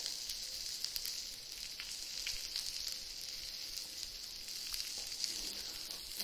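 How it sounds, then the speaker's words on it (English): Steak sears in a hot pan with a constant bright hiss of sizzling fat and scattered tiny crackles, steady and close throughout with no voices. "You really don't want to move the food around so much when you're searing."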